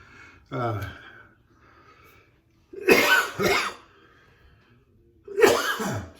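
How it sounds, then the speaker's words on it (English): Three sharp coughing bursts from a throat tickle, close to the mic, the second a quick double cough, with quiet breathing between them. "I got this tickle in the back of my throat, cough that's just driving me nuts"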